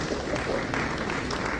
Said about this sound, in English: Please, a round of applause for them again.